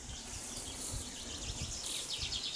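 Bees buzz steadily while collecting honey outdoors beside water, a soft continuous hum with faint chirps of birds or insects mixed in, no voices.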